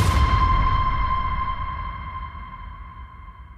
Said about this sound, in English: alongside of that signature sound or that ping, I wanted to add a hit